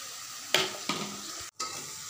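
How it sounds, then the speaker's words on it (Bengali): Water poured into a hot pan of spices and softened tomato, giving sharp sizzling bursts with stirring scrapes, close and alone. "একটু জল দিয়ে দিই।"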